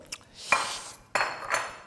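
Plates and spoons are handled close by in a home, first a clatter of crockery and then a second sharper clink and rattle of cutlery, with no voices.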